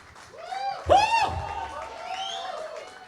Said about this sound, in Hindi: तो आप जोरदार तालियां बजाइए।